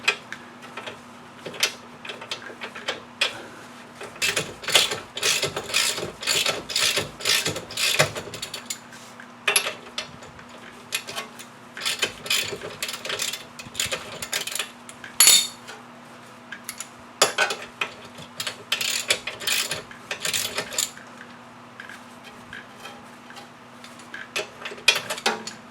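Ratchet wrench tightening a nut to draw a new ball joint through on an Audi Q5 lower control arm, heard as bursts of rapid metallic clicking strokes, close and fairly loud, with short pauses between runs.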